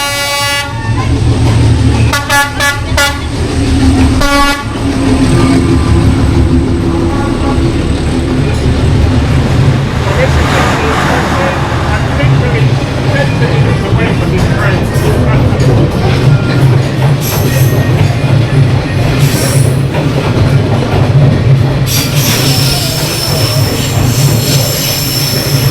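A train rolls slowly through Hanoi's narrow Train Street, very close and loud. Heavy rumbling and clanking carry throughout, with wheel squeals, and repeated horn toots come early. Crowd noise and faint voices sit underneath.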